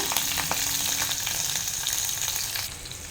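Curry leaves, green chillies and onion frying in hot oil, a close, dense crackling sizzle with occasional pops and stirring, steady before easing slightly at the end.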